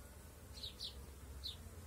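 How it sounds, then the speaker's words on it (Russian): Honeybees working at hives beside blooming linden trees, a soft steady buzz under a faint low hum with a few brief sharper bee passes close to the microphone, no voices. "Красиво пчелки работают."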